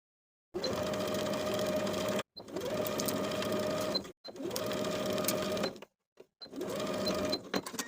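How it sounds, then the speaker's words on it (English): A sewing machine stitches a collar onto a dress neckline with a 3/8 inch seam allowance, running in four steady close bursts separated by short pauses, no talk. "Then we'll sew the collar in place with a 3/8 inch seam allowance."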